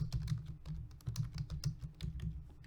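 Quiet, close typing on a computer keyboard, a quick irregular run of soft key clicks and taps with short pauses, heard alone without talk.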